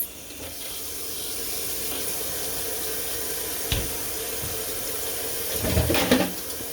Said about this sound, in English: And just rinsing out the stuff that I use.